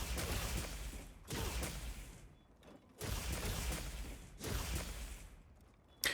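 Charge blade impact phial explosions in Monster Hunter: bursts of crackling, grinding noise stacked in quick succession, each cut off sharply before the next begins, with a final short pop at the end.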